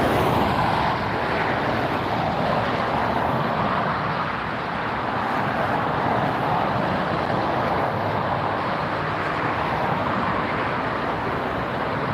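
A LATAM airliner, Flight 603, near LAX gives a broad, steady jet roar that holds fairly loud and constant, swelling slightly, over distant traffic-like background noise, with no talk.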